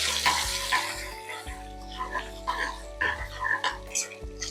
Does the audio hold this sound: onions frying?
yes